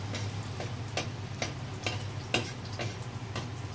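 Garlic sautéing in a pan for soup, a soft steady sizzle under a low hum, broken by regular ticking taps of a utensil against the pan.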